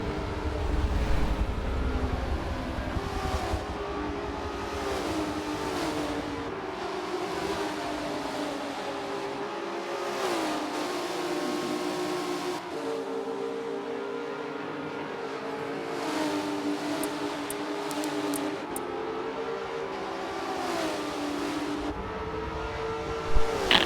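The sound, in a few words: prototype race cars racing at Road Atlanta, video game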